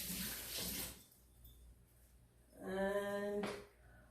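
Running tap water splashes over hands at a kitchen sink while preparing potato ball appetizers, a steady watery rush that starts briefly, quiets, then returns louder and fuller for about a second before cutting off.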